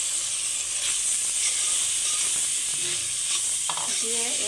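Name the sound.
stir-frying papaya with onion, green chili and shrimp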